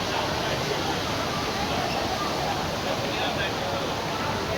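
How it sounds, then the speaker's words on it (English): The Jewel indoor waterfall at Changi Airport in Singapore roars as a steady, dense wash of falling water that is loud and unbroken throughout. "You see the water fountain, which is the good spot for taking photos."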